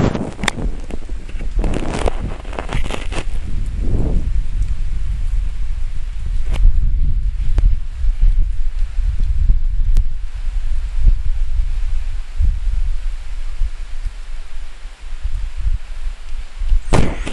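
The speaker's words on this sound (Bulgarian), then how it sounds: "Може би чувате вятъра, а може би не, аз го чувам." Steady, low wind rumble buffets the microphone throughout, with a few rustling gusts near the start and no voices.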